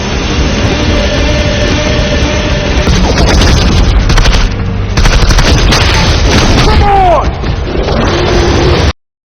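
Gunfire and explosions in a sci-fi film scene, with a soldier shooting at pursuing aliens in a corridor: loud, dense booming and rapid bursts under a constant score, with swooping laser-like whines near the end.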